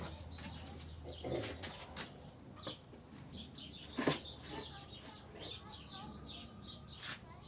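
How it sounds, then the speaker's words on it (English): Birds chirp faintly in the background as scattered short calls, mixed with nearby handling and rustling noises indoors. "you can hear the beautiful sounds of birds in the background"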